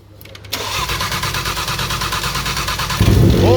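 Rebuilt Audi RS3 engine cranking with a rapid rhythmic starter chug, then catching into a louder rumble near the end, close and loud.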